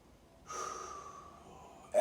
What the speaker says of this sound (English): And just slow your breathing down.